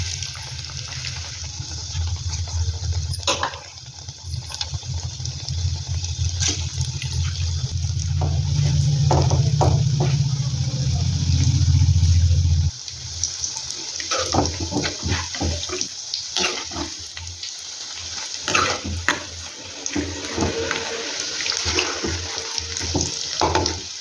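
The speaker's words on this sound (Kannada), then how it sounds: "ಈಗ ಎಣ್ಣೆ ಹಾಕ್ಕೊಂಡಿದ್ದೇನೆ, ಅದು ಕಾಯ್ದಿದೆ. ನಿಮ್ಗೆ ಇಷ್ಟವಾದ ಶೇಪ್ನಲ್ಲಿ ಈ ಥರ ಮಾಡಿಕೊಂಡು ಈಗ ಅದನ್ನು ಫ್ರೈ ಮಾಡ್ಕೊಳ್ಳೋಣ" Onion bhajji fry in hot oil with a loud, steady sizzle for about thirteen seconds, which then cuts off and gives way to scattered clatters and quieter bubbling.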